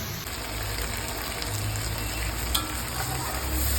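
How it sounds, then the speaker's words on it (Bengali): Spiced masala paste of turmeric, cumin, coriander, ginger and chilli fries steadily in a pan for a potato, pointed gourd and prawn curry, giving a continuous close sizzle with a few small crackles. "আর মশলাটা কষা হয়ে গেছে"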